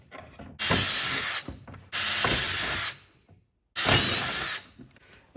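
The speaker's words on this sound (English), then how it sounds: "I'm gonna get a drill bit. I'm gonna drill out each of the corners to get this started." A drill bit drills out corners inside a Tesla Model S during a rear-facing seat retrofit, three separate close, loud grinding bursts with short pauses between them.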